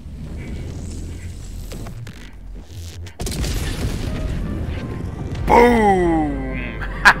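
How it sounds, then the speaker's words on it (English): Hellbomb explosion in a video game, a sudden deep boom followed by a crashing rumble and debris, rising over a background of game noise and distant gunfire. "Calling in a hell bomb."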